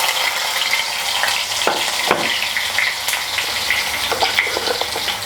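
Chopped ginger hits a few spoonfuls of hot oil in a pan and sizzles loudly and steadily, with crackling pops and occasional stirring scrapes, and no talking over it.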